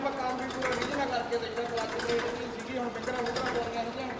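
Tractor engine idling just after starting, a steady rhythmic chugging hum close by, with voices talking over it.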